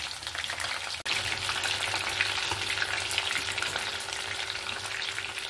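Food frying in oil, being flipped to cook on both sides and later fried a second time, makes a dense, steady crackling sizzle up close, with a brief dip early on and a faint low hum underneath.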